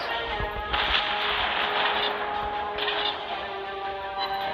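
Gunfire from the player's guns in a video game, heard as bursts of rapid mechanical firing with metallic clatter over a steady background drone, fairly close and loud, with no speech.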